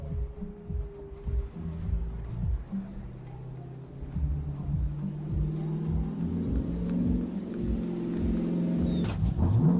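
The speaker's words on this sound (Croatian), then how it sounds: "obojica voze jedan krug za hlađenje motora" Drift car engines rumble and rev at moderate speed on a cool-down lap at a drift competition, a steady low drone with rising and falling pitch, ending in a brief louder burst.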